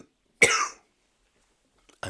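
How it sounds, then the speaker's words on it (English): A single sharp cough, close and loud, followed by silence and a brief breath before a voice starts at the very end. "I'm going to cough a second here."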